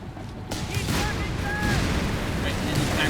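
Mortar fire in Company of Heroes 3 rumbles as a dense, low battlefield roar with scattered booms and distant shots, continuous after a sudden onset, with a commentator's voice faintly underneath.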